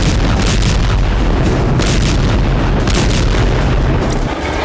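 Bombs explode in an air strike on Gaza hospitals, a continuous roar of heavy blasts with repeated deep booms rolling over one another, loud and sustained throughout.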